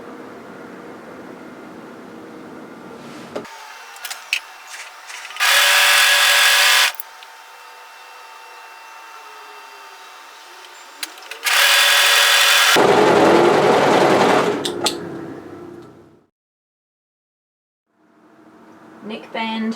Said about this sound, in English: right sides together, we're going to overlock the shoulders